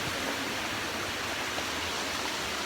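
A waterfall on a family nature outing, heard as a constant broadband rush of falling water, even and unbroken from start to finish.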